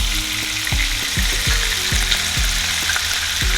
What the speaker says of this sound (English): oil is getting hot. I'm gonna go ahead and add in the turkey.